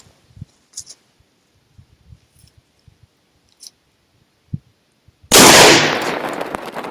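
An Impala Plus 47 shotgun fires a 29–30 gram load at a target: soft handling clicks and taps come first, then one sharp, very loud blast with a long, ringing decay.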